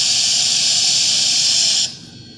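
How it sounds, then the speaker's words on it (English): A Bachmann K4s streamlined HO-scale model steam locomotive lets out a loud, steady hiss of released steam that stops abruptly after about two seconds, leaving quiet mechanical background. "Here it goes again, releasing steam."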